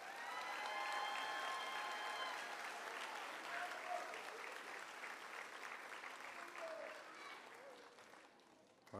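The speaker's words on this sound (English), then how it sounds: "Can we have a round of applause for Miss King and Miss Federico's class?" An audience applauds a fifth-grade class at a school moving-up ceremony, heard as steady sustained clapping from a large room that slowly thins out, with a voice or two mixed in.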